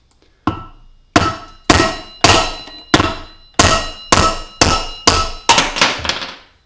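An old screwdriver is hammered to knock out the rear wheel bearing of a Honda CBR250R MC19 motorcycle, nine loud, sharp metallic blows at a steady rhythm, close up, with no talking.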